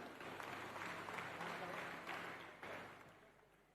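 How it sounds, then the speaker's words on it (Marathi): An audience applauds at an award ceremony held by a trust in Pernem, Goa, making a steady wash of clapping that stays fairly faint and distant before tapering off near the end. "जोरदार टाळ्या या सगळ्यांसाठी व्हायला हव्यात."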